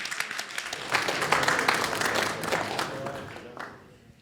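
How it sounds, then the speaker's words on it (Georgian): An audience at a fight conference bursts into applause for the fighters, dense clapping swelling quickly, then slowly fading out, with a voice heard over it. "კიდევ ერთხელ აპლოდისმენტები ჩვენს მებრძოლებს."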